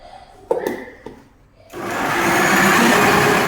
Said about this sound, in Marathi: आता मिक्सरमध्ये घालून तिची बारीक प्युरी करून घेऊयात